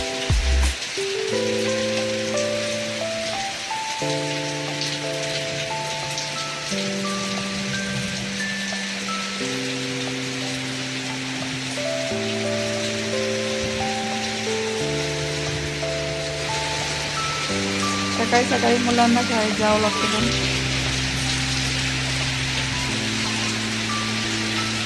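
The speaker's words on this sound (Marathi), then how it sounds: "खूपच पाऊस आला आज बाहेर" Heavy monsoon rain falls outside on a Bengal morning, a steady broadband hiss running throughout beneath prominent background music and a speaking voice.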